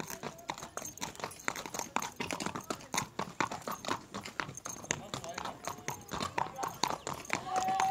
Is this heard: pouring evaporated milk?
no